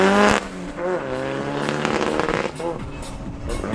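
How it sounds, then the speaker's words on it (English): A drag racing car engine at a raceway, struggling with technical trouble, revs unevenly with rising and falling tones and rough crackling, loud and close, while a commentator talks over it. "Evident that Sean is going through some technical difficulties, just by the sound of okay, his motor"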